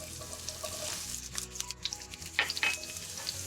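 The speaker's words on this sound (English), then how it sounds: "as soon as you hear that sizzle, you know we're ready to go." Chopped red onion sizzles and crackles steadily in a hot pan for pork chops, with a few stirring scrapes partway through, close and alone.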